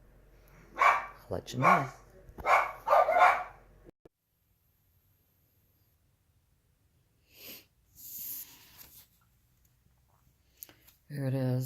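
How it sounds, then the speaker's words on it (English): Dogs in a home give a few sharp barks in quick bursts, mixed with a person's speech, followed by a quiet pause and a few more scattered sounds. "Hark, the heralding of my dogs."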